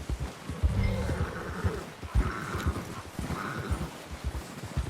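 A horse gallops in Red Dead Redemption, its hooves beating out a rhythmic clip-clop close by, with a brief whinny and a faint buzzing of insects in the background.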